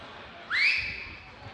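A single sharp rising whistle from a person calling a panel audience at a big data conference to attention, brief and fairly loud against quiet room noise.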